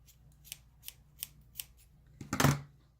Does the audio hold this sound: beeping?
no